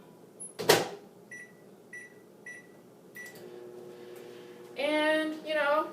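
A microwave oven cooking a mug of batter: a door thump, a few short beeps, then a low steady hum with a whirring fan, faint and close, no talking.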